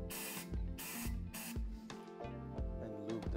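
Lubricant roller worked around a tire on a TC-513B tire changer, heard as several loud, repeated hissing bursts like spraying, with thuds and clunks of the machine between them.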